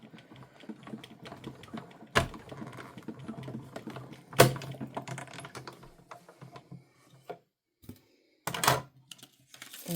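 A die cutting machine cranks cardstock and dies between cutting plates, producing rough grinding, clicking bursts with a few sharp loud thumps and brief pauses.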